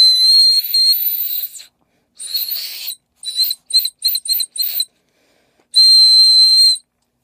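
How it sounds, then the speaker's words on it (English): Shrill, piercing whistle tones blown through a pen cap: a long blast, a shorter one, a quick run of short toots, then another sustained note. "Something cool that I discovered about my pen cap. Okay, it's a whistle too."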